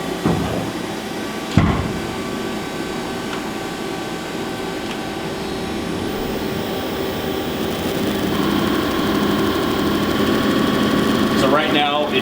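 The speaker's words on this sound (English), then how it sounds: "Right now, it's just building rail pressure here, purging all the air out" A diesel injector test bench hums and whines steadily as it builds rail pressure and purges air, with a sharp knock early on, rising slightly louder over time, and a voice talking over it.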